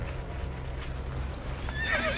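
A horse whinnies sharply near the end, high and rising, over a steady low rumble of hooves and outdoor background noise.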